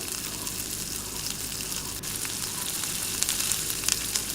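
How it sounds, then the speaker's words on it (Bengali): Ginger-garlic paste fries with onion paste in hot oil while fish curry is being cooked, a continuous close sizzle with light stirring clicks and scrapes near the end. "এবার এর মধ্যে আদা রসুনের পেস্টটাও দিয়ে দিলাম। এটাকেও একটু হালকা নাড়াচাড়া করে নেব।"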